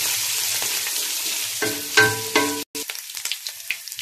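Garlic and ginger paste hitting hot oil bursts into loud spattering sizzle, then breaks into crackling pops and scraping stirs that fade to softer frying, no voices.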